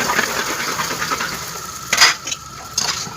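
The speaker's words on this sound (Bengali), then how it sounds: "এইভাবে নাড়াচাড়া করে ফুচকাগুলোকে ভালো করে ভেজে নিয়ে" Fuchka puris being stirred in hot oil in a karai, with a soft continuous sizzle and a few sharp clinks of a utensil against the pan near the end.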